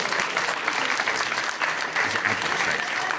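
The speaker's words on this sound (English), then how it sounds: "A round of applause to these two for what they've managed to pull off here." A crowd claps steadily in sustained applause at a gaming convention show, a dense even patter that holds at a constant level throughout without breaks.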